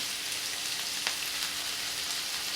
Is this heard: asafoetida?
yes